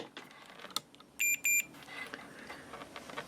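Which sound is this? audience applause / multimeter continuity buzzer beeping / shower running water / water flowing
multimeter continuity buzzer beeping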